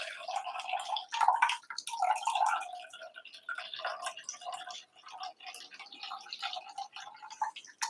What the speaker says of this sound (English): And these, you're just filtering it through the bag to make the milk.